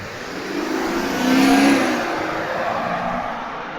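An SUV passing on a road at night as it accelerates: a steady, loud whooshing engine and tire roar that swells to a peak midway and then eases off slightly, with no talk.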